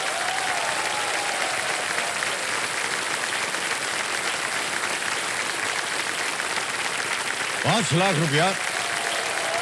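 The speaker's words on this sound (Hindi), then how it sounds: "जोरदार ताली और बज जाए।" Steady, loud studio audience applause fills the room on a KBC quiz show set, continuing throughout, with someone briefly speaking over it near the end.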